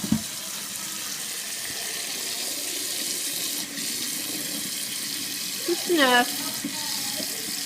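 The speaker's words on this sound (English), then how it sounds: "Then you're going to get cool water from your tap." Cool water runs steadily from a kitchen tap into a pot for boiling eggs, a constant hiss with a brief clunk of handling partway through. A person speaks a few words over the flow.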